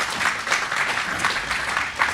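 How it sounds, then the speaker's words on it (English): An audience claps in a dense, even burst of applause that fills the room, steady and fairly loud from start to finish. "So another round of applause."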